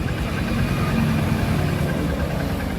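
A Honda TMX Supremo motorcycle engine idles steadily, a low even putter with constant vibration, close and moderately quiet, no voices.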